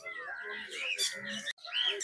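Adult pet birds such as conures, cockatiels, lovebirds and finches chirping at a Naihati pet bird market, a close cluster of quick high tweets and calls with a brief break near the end.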